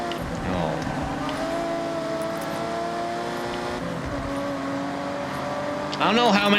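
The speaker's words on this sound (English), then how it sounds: "I don't think I've heard a single bad engine sound in this game" A car engine in the racing game Forza Horizon 6 drones steadily at high revs, with tonal whine and shifting pitch, then a burst of revving and squealing near the end, while a person talks over it.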